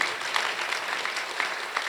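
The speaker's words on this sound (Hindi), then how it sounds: "एक बार जोरदार ताली उन सभी के लिए।" Loud, dense applause from a satsang audience in Faridabad, Haryana, sustained evenly for a couple of seconds with no break.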